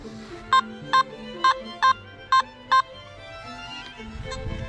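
A Simplex metal detector gives six short, evenly spaced high beeps over a 1930s Art Deco sterling silver bracelet, with faint background rustle between the tones.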